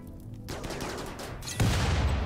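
Turrets firing in the video game Rimworld on a scorching planet, a dense, continuous fusillade of rapid gunfire that grows louder and heavier partway through, with no talking over it.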